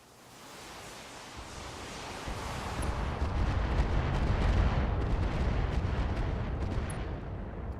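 Mech weapons firing in a video game, a broad roaring barrage that swells from a low rumble into dense, sustained blasting noise with heavy low end for several seconds.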